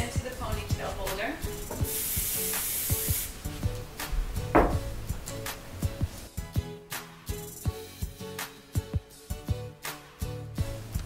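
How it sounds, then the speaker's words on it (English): Hairspray is spritzed onto hair while a ponytail is styled for an all-star cheer competition, giving a steady close hiss of about a second and a half, with brief handling taps and rubbing around it. "spritz of the hairspray before it goes into the ponytail holder"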